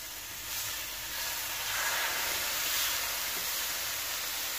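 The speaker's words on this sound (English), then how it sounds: "Can you hear that sear?" Beef burger patties for a Monterey Jack double cheeseburger sear on a dry, oil-free griddle, giving a steady close hiss and sizzle that rises slightly and holds without speech.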